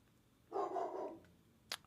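A dog barks indoors in the background, one drawn-out bark that trails off, then a brief sharp yip shortly after, moderately loud with no talking.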